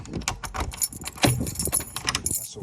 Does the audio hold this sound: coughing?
no